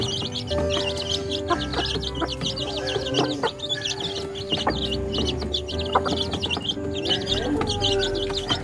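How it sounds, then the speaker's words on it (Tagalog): Many birds chirp and twitter without pause at dawn in the countryside, mixed with native hens clucking as they peck, a busy continuous chorus close by. "Maraming ibon eh. Walang tigil ang huni."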